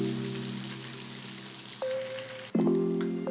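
Sesame paste curry with pointed gourd simmering in a pot on a stove, a steady soft bubbling hiss with a low hum underneath, briefly joined by a clink and a louder stir near the end.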